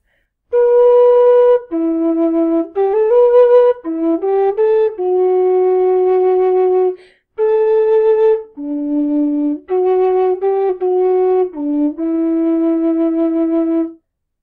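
An MK Pro Low D tin whistle plays the Game of Thrones theme, a loud, close solo melody of clear sustained notes with short breaths between phrases and no talking.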